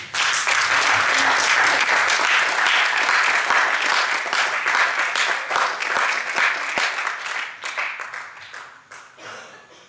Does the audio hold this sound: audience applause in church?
yes